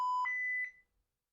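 A SCADA software alarm gives a single short electronic beep: a clean tone that changes pitch once, then stops and fades into silence.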